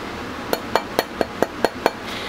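A nylon hammer taps a sterling silver ring into shape, giving seven crisp, evenly spaced metallic knocks with a slight ring to each, close and alone.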